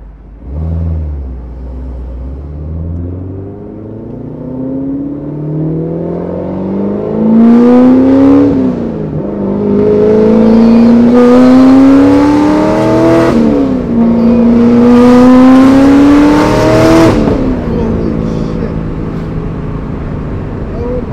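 A cammed, supercharged Corvette Grand Sport engine revs hard through several rising pulls, its deep lumpy exhaust climbing in pitch with each surge, loud and close, starting from a rough idle.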